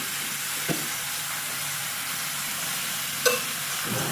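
Jaggery is mixed into raw mango pickle, giving a steady close hiss with faint stirring rustle and a couple of soft knocks of the utensil against the container.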